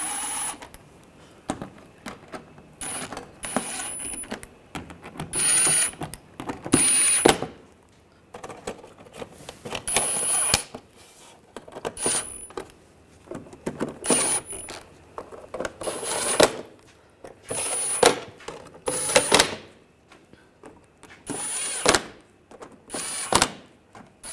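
Alternator bolts being tightened on a 2006–2010 BMW 550i, heard as a long run of close metallic ratcheting clicks and tool clatter in uneven bursts with short pauses, no talking.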